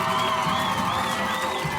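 A crowd cheers and applauds loudly and steadily, with whoops and shouts layered over dense clapping throughout.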